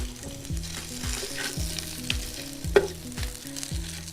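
Bacon fries in a pan with a continuous close sizzle, punctuated by a rhythmic series of stirring scrapes and taps, with no voices.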